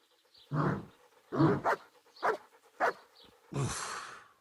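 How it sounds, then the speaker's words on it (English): A dog in the video game Kingdom Come: Deliverance gives about five gruff, close barks in an uneven rhythm, the last one drawn out, with no talking. "Bark."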